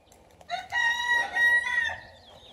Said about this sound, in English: That's the neighbor's chickens.